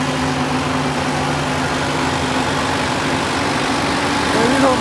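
A Preet 90 hp tractor pulling a 10-foot super seeder runs at a steady, loud low drone with a constant hum throughout, close by and without pause.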